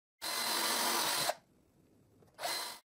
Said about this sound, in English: And I drill guide holes in the nails holes.